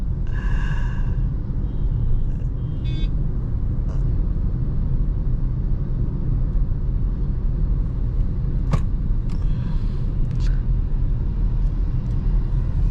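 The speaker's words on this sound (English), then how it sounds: "There's a lot of traffic." Steady road rumble and passing highway traffic heard from inside a Hyundai Tucson at cruising speed, a constant low drone with a few faint brief noises on top, no talking.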